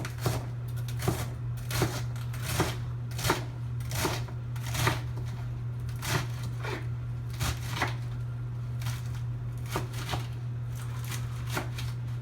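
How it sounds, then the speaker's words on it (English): A chef's knife slices through salad greens for a Cobb salad, producing about fifteen crisp, close cuts in a fairly regular rhythm over a steady low hum, with no speech. "take our chef's knife, cut the back end off it right here, and just start slicing it down"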